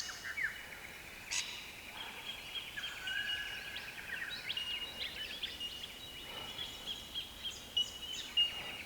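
Mixed birdsong around a bush campsite at Peach Trees, with soft overlapping chirps, trills and whistles coming from a little distance, faint and continuous with no talking.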